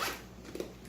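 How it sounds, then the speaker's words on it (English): A zipper on a yacht electrician's tool bag pulled open in one brief close-up rasp, with a couple of small clicks and rustles near the end. "Nice zipper on these bags."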